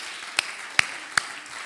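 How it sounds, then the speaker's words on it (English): Three sharp, evenly spaced hand claps in a church service during a moment of praise, fairly faint over a quiet background, each clap crisp and brief. "Let's give the Lord a hand clap of praise"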